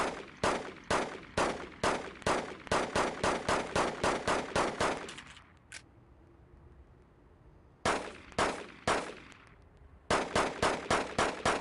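Rapid video game gunfire from pistols and a Mac-10 SMG, loud and close, with steady strings of evenly spaced shots broken by a short reload pause and then further volleys.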